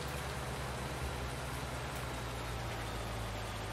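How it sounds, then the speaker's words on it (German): Steady rain falls in the Farming Simulator 19 farming game, a dense even hiss with a low engine-like hum beneath, loud and continuous. "Ich warte auch, dass der Regen endlich aufhört. Das nervt doch."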